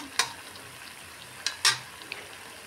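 Snacks frying in a wok of oil, a faint low sizzle punctuated by a few sharp metallic clinks of a utensil against the pan, close by, with no talking.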